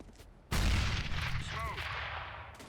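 A grenade goes off in the video game Overwatch, a sudden loud burst that decays into a rumbling tail, with a brief voice and faint gunfire behind it.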